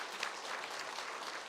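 Church congregation applauding during a Children's Sunday worship service, a short, steady patter of many hands clapping together, fairly soft and distant, with no voices over it.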